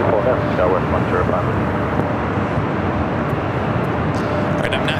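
Delta jet taking off from runway 24 left at LAX, a steady broad engine roar held at constant loudness throughout, with faint radio-style voices in the background.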